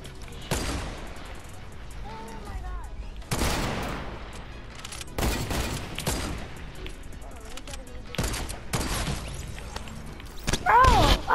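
Rapid bursts of gunfire from the video game Fortnite crack out in several separate volleys, loud and close, while players chat between the shots.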